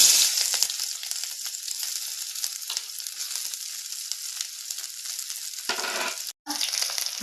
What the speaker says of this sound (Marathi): तेल गरमच आहे तर मी याच्यात मिरची टाकून घेते आता कट केलेली